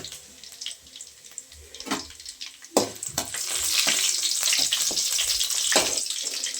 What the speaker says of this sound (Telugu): చిట్టుపట్టలాడుతుంది కదా